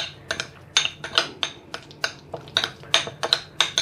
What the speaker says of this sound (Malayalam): എന്നിട്ട് നമ്മളത് നല്ലവണ്ണം ഒന്ന് മിക്സ് ചെയ്യുക.